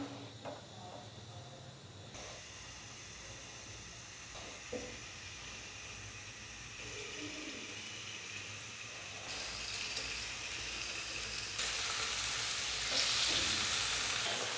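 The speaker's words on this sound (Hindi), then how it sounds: "तो अभी मैं इसके अंदर चिकन के पीसेस डालूंगा।" Chicken pieces dropped into lightly heated oil for black pepper fried chicken, a continuous close sizzle and hiss that grows louder and brighter over time, with occasional soft stirring knocks and no talking.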